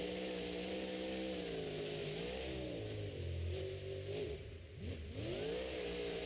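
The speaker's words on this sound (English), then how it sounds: "Truck certainly sounds different than all the rest." A monster truck engine revs in a stadium at a Monster Jam event, rising and falling through several throttle swells with a deep, throaty roar, heard at a distance over steady crowd and arena noise.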